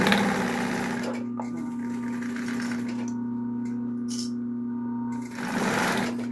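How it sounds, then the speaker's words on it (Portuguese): A sewing machine runs close by, stitching a small fabric case with a fast, even whirring hum that pauses briefly near the end, and a faint voice is heard at times. "eu ponho pra máquina e faço aqui, ó. Aí eu ergo meu pezinho aqui, abaixo e vou passando a costura."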